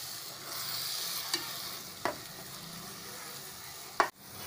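A paste of green garlic, coriander, green chili and ginger fries in a pan for green pav bhaji, hissing with a soft, steady sizzle while a spoon stirs and knocks against the pan a few times.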